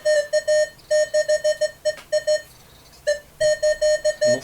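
A Minelab X-Terra 705 metal detector over a silver cross emits rapid bursts of high, steady beeps in quick repeated clusters, pausing briefly before resuming the same pattern.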